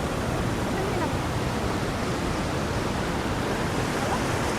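Fast river current of the Jhalong river at a picnic spot, a dense, loud and unbroken rush of water that continues without pause throughout.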